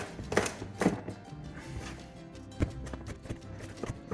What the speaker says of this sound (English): I'm just gonna dice it up real small.